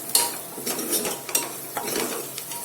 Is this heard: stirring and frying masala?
yes